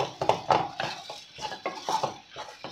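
Potatoes being mashed in a pot, a series of soft irregular thumps and scrapes of a utensil against metal, close and fairly quiet.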